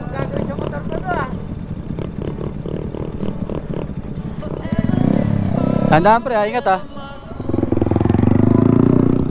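Motorcycle engine revving and roaring close by, rising in intensity toward the middle and staying loud at the end, under ongoing conversational talk while the bike is ridden on a beach trail in Ilocos Norte.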